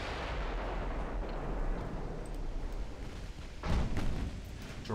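Naval gunfire booms in the warship game Ultimate Admiral Dreadnoughts, with a continuous heavy rumbling roar and a louder thudding salvo surge near the end.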